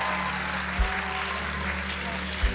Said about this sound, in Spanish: ¿Por qué no le dar un aplauso,